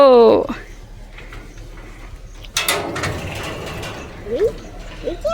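A gate at a temple shrine is pushed open with a metallic ratcheting rattle and clank, followed by scraping movement, while a few short squeaky sounds come in near the start and the end.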